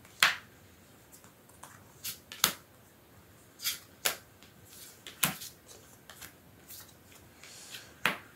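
Tarot cards being shuffled in short crisp bursts, several separate riffles and snaps spaced irregularly across a quiet room, close and fairly soft, with no talking.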